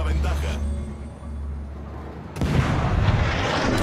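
Naval artillery fire in the warship battle game World of Warships, with booming gun blasts and rumbling impacts, a heavy burst near the start and a louder barrage after a pause, while someone talks over the action.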